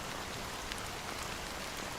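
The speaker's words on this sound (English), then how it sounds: "how long has this rain been going on for?" Steady rain pours continuously in a video game, a dense, even hiss of falling drops with no other sounds over it.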